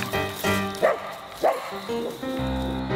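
A blue merle Sheltie barks and yips in a yard during play, several sharp close barks in quick succession.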